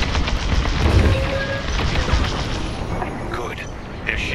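Starfighter blaster fire in Star Wars Squadrons, a dense rapid barrage of loud bursts over engine roar, easing off toward the end with a brief flare near the close.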